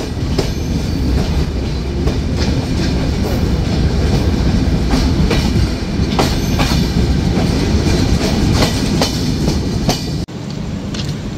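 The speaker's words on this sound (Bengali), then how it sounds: "ট্রেনটি ছেড়ে যাচ্ছে ঢাকা বিমানবন্দর রেলওয়ে স্টেশন" The Dhumketu Express pulls out of Dhaka Airport railway station, loud steady rumble with rhythmic clickety-clack of wheels over rail joints throughout, close and continuous.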